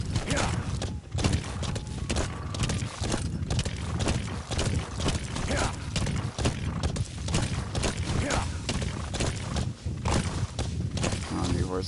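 Rapid rhythmic hoofbeats of a galloping horse in Metal Gear Solid V: The Phantom Pain pound steadily throughout, with shouted voices over the top and busy game-like background noise.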